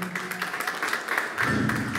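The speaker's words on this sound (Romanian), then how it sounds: "Aplauze și pentru maestru" An audience at a Roma and Sinti day event applauds the conductor with steady, dense clapping throughout, moderately loud and filling the hall without pause.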